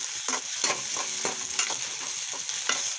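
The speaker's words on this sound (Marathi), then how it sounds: "शिमला मिरची, पत्ता गोभी थोडीशी, सगळे छान मिक्स करून घेऊ।" Capsicum and cabbage fry in a pan for poha while a spatula stirs them, producing a steady sizzle broken by regular scraping strokes about every half second, close and clear with no voices.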